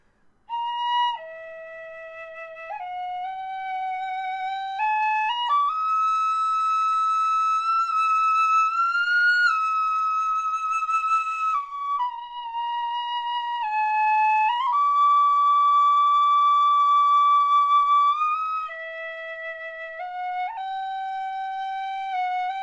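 A high D tin whistle plays a slow tune alone, with clear sustained notes stepping between low and high pitches at a steady, fairly loud volume.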